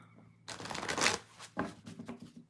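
Tarot cards are shuffled close up in several quick riffling bursts, each a soft papery flutter, with no voices.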